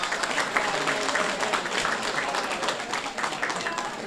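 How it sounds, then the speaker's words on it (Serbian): Applause from the audience at a New Year gathering of a pensioners' association, steady dense clapping from many hands, loud and sustained throughout. "Molim jedan aplauz za našeg predsjednika."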